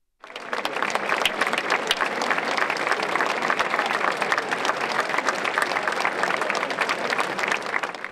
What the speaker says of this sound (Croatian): Velikim pljeskom brojna osječka publika pozdravila je Budimpeštanski romski orkestar